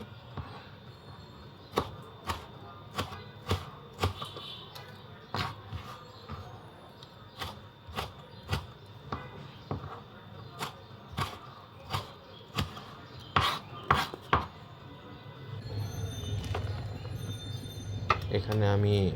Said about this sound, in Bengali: এখন আমি টমেটোগুলোকে চপ করে নিচ্ছি ডাইস আকারে